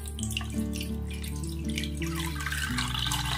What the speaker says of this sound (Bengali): এর মধ্যে এই দুধটাকে আমি প্রথমে ঢেলে দেব।